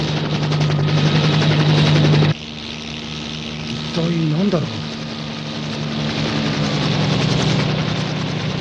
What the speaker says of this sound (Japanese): あれは統合軍の装甲用ヘリですね。